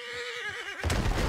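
A horse whinnies while being tamed in the Red Dead Redemption 2 video game, a short, fairly loud neigh that breaks off into a sudden louder crash or scramble.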